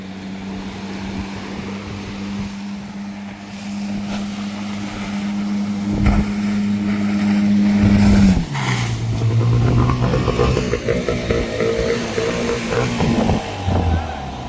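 At a beach fish market, a boat's outboard engine drones steadily, then revs hard and strains as the boat is driven up onto the sand, its pitch dropping after the surge. Faint voices and wind sit in the background.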